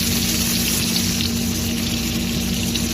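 Pork fat sizzling steadily in a pan while cooking a Filipino dish of upo, long beans and squash, with a dense, continuous frying hiss and low bubbling throughout, no talk.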